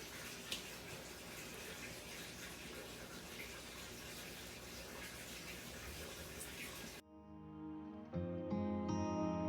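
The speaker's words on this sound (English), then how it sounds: "I took it over to my sink and rinsed it off a little bit." Cold water runs steadily from a tap into a sink, rinsing pork, a continuous splashing rush, before it cuts off abruptly and music starts.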